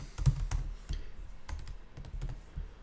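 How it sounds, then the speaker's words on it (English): Keys clatter on a computer keyboard as a name is typed in, a quick burst of close, fairly quiet clicks with short pauses between the strokes. "And if I type in my name"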